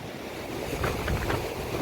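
Sea waves washing onto the shore near a seaside temple at Gadhada Bet in Gujarat, a steady broad wash with soft surges, mixed with wind buffeting the microphone.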